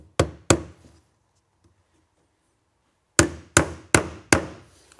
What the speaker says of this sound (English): I'm just going to put 3 nails in it for right now.